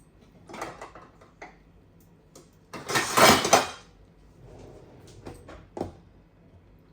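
A lid set onto a frying pan in a home kitchen while cooking an egg omelette curry, giving a bright metallic clatter in the middle, with a few lighter clinks and taps of cookware before and after.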